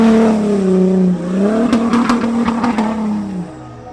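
Volkswagen Touareg SUV driving fast up a tight hill course, engine note rising loudly and close as it accelerates, then shifting and fading as it pulls away, with brief tire noise and no talking.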